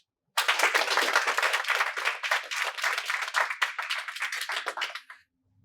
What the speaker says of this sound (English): one more round of applause for you guys, the judges, everyone who has been involved with FrontierMath from its onset